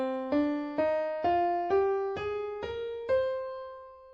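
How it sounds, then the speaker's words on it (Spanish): A minor scale used as the basis for flamenco in video game music, played as seven ascending plucked notes at an even pace, the last one left ringing, close and alone. "Para el flamenco, por norma general, tomaremos de base la escala menor, que suena así."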